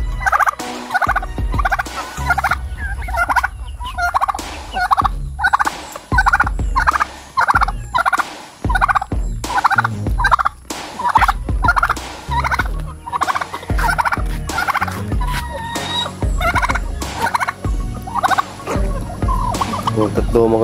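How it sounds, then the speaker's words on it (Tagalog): Several turkeys gobble in repeated bursts throughout, loud and close on a rural countryside farm, with occasional brief voices in the background. "Pabo."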